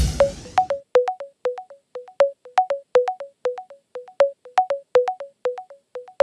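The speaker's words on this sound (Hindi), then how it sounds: "कंप्यूटर महाशय, सोनाली रे जी को फोन लगाया जाए।" A telephone rings during a call placed on the Indian quiz show Kaun Banega Crorepati: a clear electronic ringtone of short paired chirps repeating at a steady, even rhythm, loud and alone.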